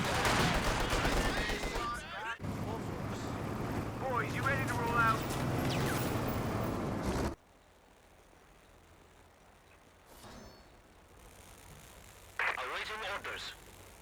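Game gunfire hitting grenadiers in Company of Heroes 2, rattling bursts mixed with battle noise under a commentator's voice, with gunfire fading after seven seconds to a quieter bed with occasional shots.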